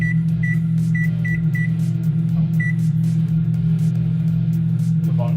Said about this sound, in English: Now this is about an 1100 watt microwave oven. And we're going to start the cooking.